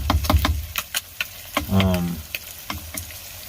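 A pot of half-cooked rice with onions and tomatoes cooks on a camp stove inside a pickup bed camper on a winter night, giving a close, crackling sizzle with scattered clicks and a brief bubbling swell.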